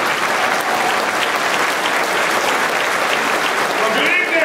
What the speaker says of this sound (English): please stand up and give a round of applause to Ben Jealous.